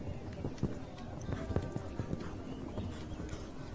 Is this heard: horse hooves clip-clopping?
yes